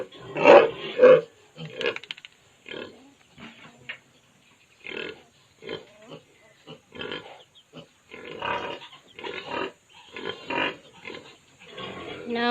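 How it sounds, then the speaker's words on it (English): Pigs grunt and oink in a pig room, bursts of snorting grunts coming in an irregular rhythm, close and fairly loud, with short quiet gaps between them. "Now I need to feed the pigs."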